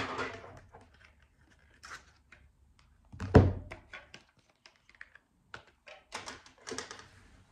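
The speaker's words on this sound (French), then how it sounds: "Je vais prendre une carte conseil." A card is drawn from a tarot deck: soft close shuffling and light taps, a single louder thunk partway through, then scattered quiet clicks of handled cards.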